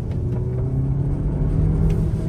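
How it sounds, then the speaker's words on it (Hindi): A car with a powerful petrol engine driving on a winding ghat road, a steady low engine drone and road rumble holding constant and fairly loud throughout, with no voices. "specially powerful petrol engine"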